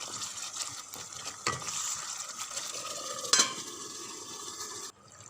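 Okra is stirred into a masala curry in a pan, giving a continuous close sizzle with scraping spoon strokes and a sharp clink near the end before the sound drops away.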